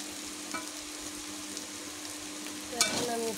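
Potato and bitter gourd fry in a pan, a quiet steady sizzle with a few scraping stirs, one louder clatter near the end.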